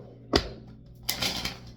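Tarot card deck being shuffled by hand, two quick papery bursts with a short riffle, close and fairly quiet against a silent room.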